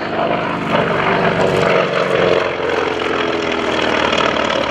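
Navy SNJ trainer propeller airplanes fly at an airshow, a loud sustained radial-engine drone with a churning propeller buzz that holds steady throughout, swelling slightly as the aircraft pass, with no talking.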